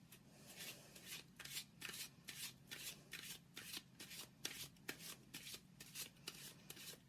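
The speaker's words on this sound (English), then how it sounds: "They're really easy to shuffle once you treat them." Angel cards riffle and shuffle in quick repeated bursts, a crisp papery flutter recurring about twice a second, close and quiet with no talking.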